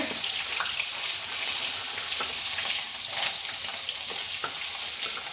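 Green chillies and peanuts fry in hot oil with a tempering of curry leaves and asafoetida for potato poha, a steady close sizzle with small crackles and pops throughout.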